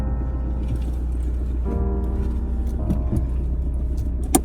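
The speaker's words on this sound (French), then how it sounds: "j'ai 40 minutes de voiture pour aller au travail" A car on a 40-minute road commute to work gives a steady low engine and road rumble from inside the cabin, with faint music tones layered over the constant drone.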